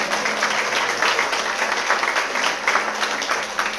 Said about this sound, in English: I think you should give the nice young ladies, everyone who set this up, a round of applause too,